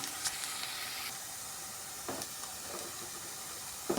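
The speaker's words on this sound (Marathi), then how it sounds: "आता मी सोडते याच्यामध्ये एक एक वांगी" Whole brinjals (eggplants) slipped into hot oil in a village-style Maharashtrian curry give a steady soft sizzle and hiss, with a few brief bursts as pieces drop in.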